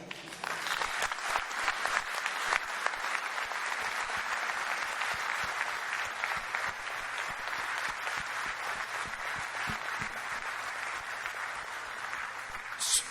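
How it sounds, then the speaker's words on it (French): A gathering of workers applauds in tribute, a sustained, even wash of clapping from a moderately distant crowd that holds steady for the whole stretch without any talk. "Je tiens à leur rendre hommage, non par une minute de silence, mais par vos applaudissements."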